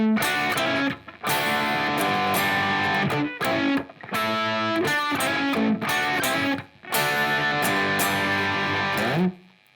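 A distorted electric guitar chugs through the riff of a song in loud bursts of chords separated by short gaps, close and alone.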